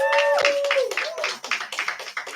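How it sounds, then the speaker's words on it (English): Scattered applause from a small in-person audience, a handful of uneven claps tapering off, with a brief tonal sound at the start. "Can y'all give yourselves a round of applause, please?"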